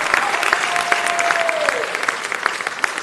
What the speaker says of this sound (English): Let's give another round of applause for the Jewish Women's Theater